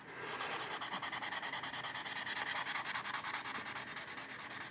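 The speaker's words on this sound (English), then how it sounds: "So yeah, I'm just gonna sand it out." Steady, rhythmic sanding strokes rasp against a primer coat on a resin surface, close and continuous with an even back-and-forth pulse and no talking.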